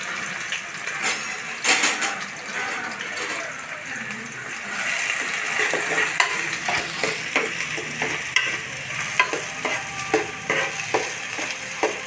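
Chopped onions sizzle in a pan, set beside a fish curry, with a continuous frying hiss and repeated clinks and scrapes from stirring, close and fairly loud.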